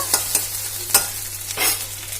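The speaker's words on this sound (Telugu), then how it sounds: "మనం దంచుకున్న మసాలా పేస్ట్ కూడా నేను సోంపులో వేసేసినా కదా ఇప్పుడు కొంచెం ఇది ఫ్రై అయిన తర్వాత" Ground masala paste with fennel sizzles loudly in hot oil while a spoon scrapes and stirs it in several distinct strokes close by.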